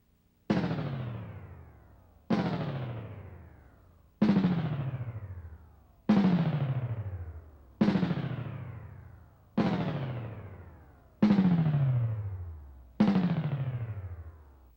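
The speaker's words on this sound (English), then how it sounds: "A downward pitch shift with regeneration on a percussive sound will sound like this." Eight percussive hits spaced about every 1.8 seconds, each processed by a downward digital pitch shifter with regeneration so its tail sweeps steadily lower as it decays; loud, clean and with no talking.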